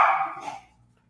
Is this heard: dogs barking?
yes